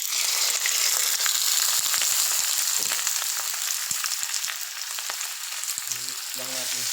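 Pork frying in a pan with garlic and onion gives a loud, steady, dense sizzle with scattered crackles and pops, and a few stirring clinks near the end.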